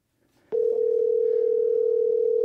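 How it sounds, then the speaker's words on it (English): A single steady ringing tone from a telephone call starts abruptly after a short quiet moment and holds loud and unbroken to the end. "It's still ringing."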